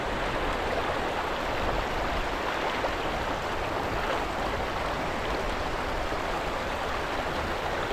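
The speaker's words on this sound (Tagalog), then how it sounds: "Ang lakas po ng agos oh" A strong stream current rushes without pause in an outdoor waterway on a tilapia fishing outing, a dense, loud, even wash of water with no voices.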